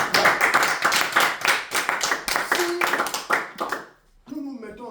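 Church congregation applauding, a dense, loud burst of many hands clapping that fades out, followed by a voice starting to speak.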